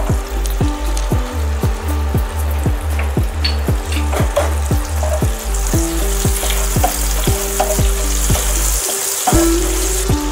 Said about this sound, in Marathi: आता आपल्याला हिरवी मिरची टाकायची आहे।